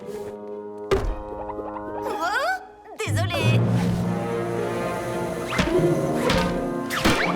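A ball strikes hard in an animated cartoon, landing as a sharp cartoon thunk early on and again mid-way, with someone speaking and background music and effects around it.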